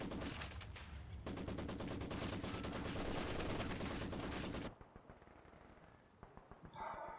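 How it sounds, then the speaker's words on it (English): Dense rapid machine-gun and rifle fire from a battle in the strategy game Company of Heroes 2, loud and continuous for several seconds, then dropping to scattered, quieter distant shots. "I don't know why they're shooting at dead people"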